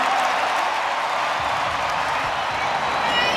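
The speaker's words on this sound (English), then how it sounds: "Listen to the crowd." A baseball stadium crowd at an Angels versus Mariners game roars after a leaping outfield catch, a broad, sustained wash of cheering and scattered clapping heard from a distance, holding steady throughout.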